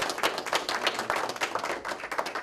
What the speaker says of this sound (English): So I think they deserve a round of applause for their efforts and the time that they put into this as well